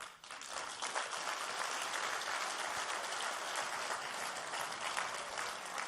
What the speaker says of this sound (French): vous pouvez vous applaudir